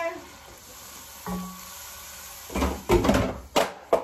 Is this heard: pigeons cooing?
no